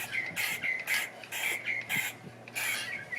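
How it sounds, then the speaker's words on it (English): A single bird singing outdoors, repeating a short bright call roughly twice a second in a steady rhythm, moderately close over faint background hum. "as you can hear, we are out here with our bird friend"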